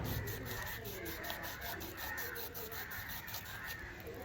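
A kitchen knife saws through a pineapple with close, rough scraping and rubbing strokes in a rhythmic pattern, fairly quiet and continuous, with no clear talking over it.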